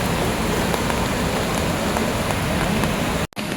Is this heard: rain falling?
yes